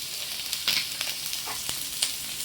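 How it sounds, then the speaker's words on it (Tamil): Onions sautéing with dried chillies in a pan for a chicken dish give a steady close sizzle and fry hiss, broken by a few sharp clicks and scrapes of stirring. "காஞ்ச மிளகா போட்டோடனே வெங்காயத்தையும் போட்டிங்கன்னா கரெக்டாக இருக்கும். வெங்காயம் வதங்கட்டும்."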